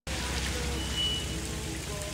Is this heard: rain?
yes